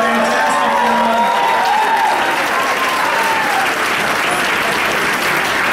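Sustained audience applause fills a victory speech event, a dense steady roar of clapping with some crowd noise and faint cheering, loud and continuous throughout with a few whistle-like tones.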